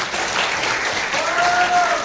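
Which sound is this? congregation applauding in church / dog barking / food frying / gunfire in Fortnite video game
congregation applauding in church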